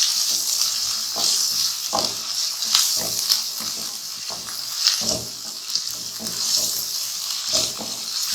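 Chicken pieces fry with sautéed onions and ginger-garlic in a hot pan, giving a loud, steady sizzling hiss close by that runs throughout. Irregular stirring knocks and scrapes cut through it, and no one speaks.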